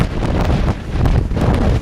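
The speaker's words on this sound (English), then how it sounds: "It's windier than hell," Strong storm wind buffets the microphone on a cruise boat in the Mediterranean off Barcelona, a loud, continuous roaring rumble with gusting swells and no voices.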